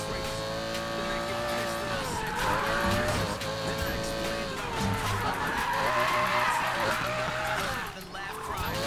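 Cars race in Need for Speed Payback, the engine roaring steadily with rising and falling revs and squealing tires through drifts, loud and continuous, with a voice talking over it.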